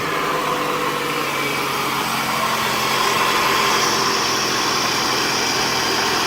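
A Toyota car engine idles with a loud, steady drone and a faint higher whine, running continuously without talk, with oil hitting the exhaust.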